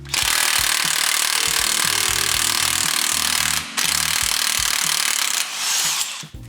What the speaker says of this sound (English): Next, we're going to remove the spindle nut here, which should allow us to pop our axle out the backside